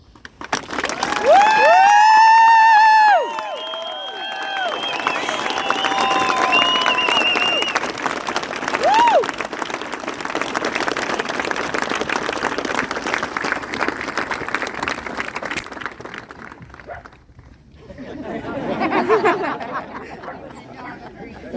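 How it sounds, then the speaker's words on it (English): A crowd cheering and applauding Honor Flight veterans, loud sustained clapping with whoops and chatter, a voice speaking over it early on, then fading before a second brief swell. "Hold nothing back in appreciation and applause, please."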